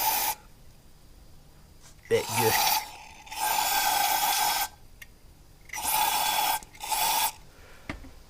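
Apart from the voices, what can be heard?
spraying into engine cylinder to check bent valves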